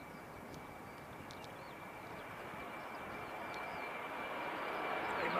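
A Jetstar airliner takes off from Christchurch Airport and climbs steeply, a broad steady engine roar heard from a distance that slowly swells louder toward the end.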